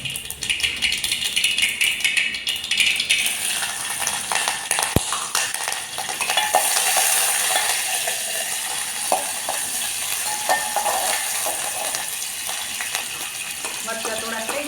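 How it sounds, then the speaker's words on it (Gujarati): Green chilies frying in hot oil with crackled mustard seeds, a loud continuous sizzle and spatter close by, with a sharp clink partway through. "રાઈ જો તતરી ગઈ છે. હવે આપણે એમાં મરચાં નાખી દઈએ."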